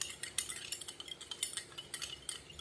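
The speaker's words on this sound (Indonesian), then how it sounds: "Kita campur, aduk sampai rata." Spoon stirring sugar into a glass of water, with a steady run of light clinks and scrapes against the glass, close and fairly quiet, with no talking.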